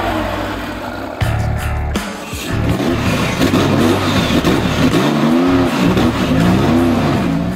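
Close and loud, a Porsche 993 GT2 race car with a 460-horsepower engine accelerates hard on a racing circuit, its engine note rising and falling through repeated gear changes, with faint tire noise beneath.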